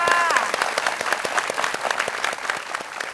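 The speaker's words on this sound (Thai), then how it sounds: "ขอเสียงปรบมือให้กับใบหม่อนอีกครั้งหนึ่งค่ะ" Audience applause for Bai Mon at a Thai televised studio event, dense steady clapping from a crowd filling the room, with a voice briefly audible over the start.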